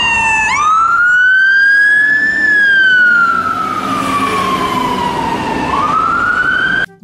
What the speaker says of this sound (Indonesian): Lihat, ada pemadam kebakaran